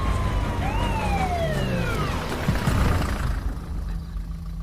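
An ambulance siren in an Indian film street scene wails in two rising-and-falling sweeps over steady traffic rumble, then fades off partway through.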